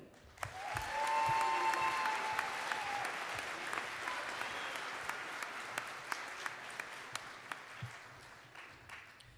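A commencement audience breaks into applause that swells quickly, then carries on steadily with a few sharper individual claps standing out as it tapers slightly.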